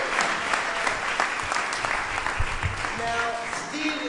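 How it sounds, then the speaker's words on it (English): Steady, dense applause from a live entrepreneur event audience welcoming guest Steve Sims to the stage, loud and continuous throughout, with a few faint tonal sounds near the end. "everyone a round of applause for the one and only Mr. Steve Sims."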